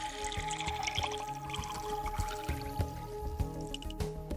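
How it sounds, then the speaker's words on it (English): Distilled water being added to a one-liter standard volumetric flask in a lab, with soft liquid trickles, drips and small glassy clinks spaced irregularly, quiet and close. "Add a small amount of distilled water to it."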